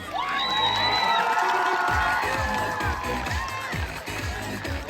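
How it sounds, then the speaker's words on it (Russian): Children's crowd cheering, shouting and whooping at a summer camp friendship bonfire stage event, loud and continuous with rhythmic clapping, with voices calling out over the noise. "Тогда мы бурными аплодисментами встречаем на нашей сцене"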